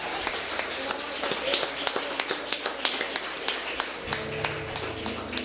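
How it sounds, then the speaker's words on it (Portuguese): A church congregation applauds during a Sunday evening service, with scattered, irregular claps building into rhythmic clapping, close and fairly loud. "Você pode aplaudir o Senhor?"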